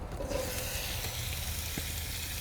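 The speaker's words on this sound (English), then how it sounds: "We have microphones, so you can hear the sizzling." Meat sizzles in a pan over a campfire, a steady close hiss of frying with faint stirring, no voices.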